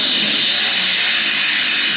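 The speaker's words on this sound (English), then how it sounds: "That's drilling through a 1/8 inch" A power drill boring through a 1/8 inch steel trailer ramp, a loud, steady, high-pitched whine with a harsh metallic hiss held without a break through the short moment.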